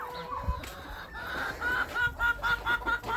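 Hens and young chickens cluck in a backyard poultry yard, a series of short rhythmic clucks growing louder toward the end, fairly close, with no talk.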